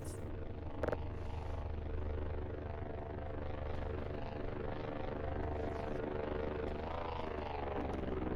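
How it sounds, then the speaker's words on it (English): A delivery drone flies in the game Voices of the Void, a steady loud droning engine rumble with a rotor-like hum that runs throughout, holding constant with a brief knock near the start. "I also ordered stuff on the delivery drone, so if, like, you hear it in the background, it's just that."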